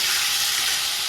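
Chopped tomatoes hitting a hot pan of fried fish and onions set off a loud, steady, broadband sizzle that holds evenly throughout, with no voices over it.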